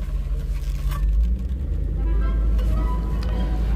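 Rolls-Royce Corniche Mulliner Park Ward pulling away, a steady deep engine rumble heard from inside the car, smooth and continuous with faint road noise.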